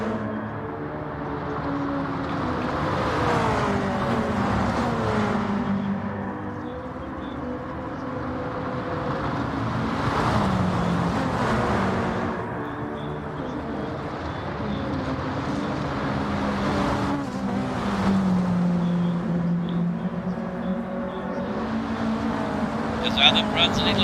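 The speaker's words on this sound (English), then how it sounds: "Adam follows Mevan into the last stages of this race" Sim racing video game with a trio of race cars late in the race: engine whine sweeps up and down continuously as the cars pass through corners, with a commentator talking over it throughout.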